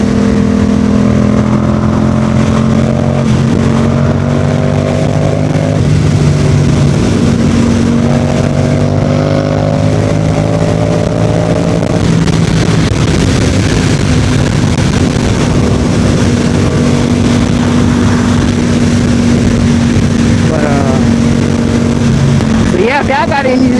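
A Yamaha MT-07 motorcycle ridden on the road, its engine drone steady and loud with rising and falling pitch as it accelerates and shifts, wind rushing throughout and a voice speaking over it.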